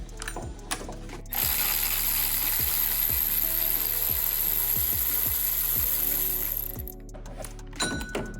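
A hand ratchet loosens a 14 mm bolt on the power steering pump of a 2008-2012 Honda Accord 2.4L, a steady run of close, crisp clicks with brief pauses between strokes, no talking.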